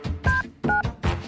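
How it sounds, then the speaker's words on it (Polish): Three short telephone keypad tones beep in quick succession, clear and close, with no talking. "Może zadzwonię do męża."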